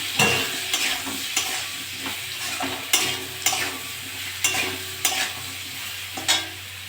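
Vegetables for a Bengali shukto of bitter gourd, potato, pumpkin and drumsticks are sautéed in a pan with salt and cumin powder, giving a soft sizzle under repeated scraping stirs of a spatula that land at an uneven rhythm.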